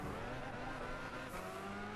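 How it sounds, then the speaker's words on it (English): A BMW spinning out in Gran Turismo 6, a steady engine drone with a faint squeal of sliding tyres, fairly quiet and with no talking. "There's a spinning out BMW."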